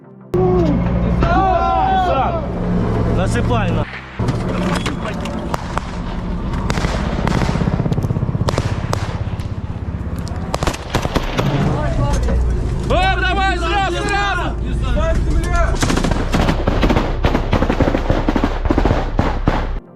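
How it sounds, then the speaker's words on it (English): Infantry gunfire during a combat clash near trees as Ukrainian troops leave their vehicles: repeated loud shots and bursts ring out over rumbling engine noise, with shouting voices rising in the middle. "They then open fire and take cover in an area with trees."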